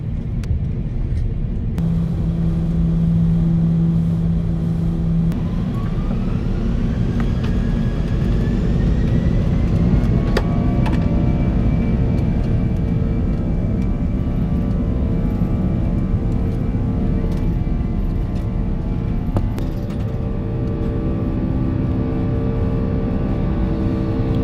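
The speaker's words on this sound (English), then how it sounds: "We taxied out to runway 22 here at Astana to begin our flight over to Frankfurt." A Lufthansa Airbus A340 taxiing to the runway at Astana, heard from inside the cabin as a steady, loud engine rumble with rising whines and faint tonal hum throughout.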